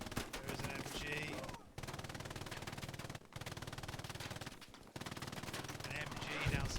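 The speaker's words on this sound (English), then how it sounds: "An MG now suppressing the lower deck." Sustained machine gun fire in the World War II shooter Hell Let Loose rattles continuously in dense bursts with only brief breaks, loud and close, with a commentator's voice mixed in.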